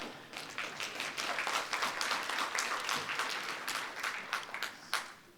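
A crowd claps steadily for several seconds, dense overlapping hand claps at a fairly even level before tapering slightly at the end.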